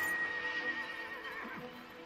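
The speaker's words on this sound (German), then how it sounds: "Ich glaube, das ist ein Pferd." A horse whinnies once in a VR video game, a faint, high, wavering neigh over a quiet background, with no voices.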